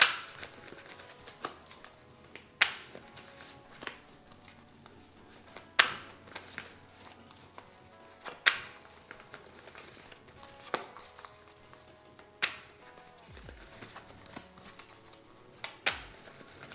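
Tarot cards being shuffled by hand in a quiet room, a series of soft crisp riffles and taps spaced irregularly, with brief sharper snaps between quieter rustling.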